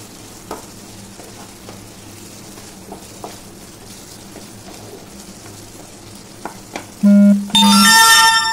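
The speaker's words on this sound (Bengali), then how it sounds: "চিকেন টিক্কা দিয়ে দিলাম, দিয়ে ভালোভাবে মিশিয়ে নিলাম।" Chicken tikka pieces stirred into gravy in a pan, a soft steady sizzle with scattered scraping stirs, followed by a loud electronic beeping tone at the end.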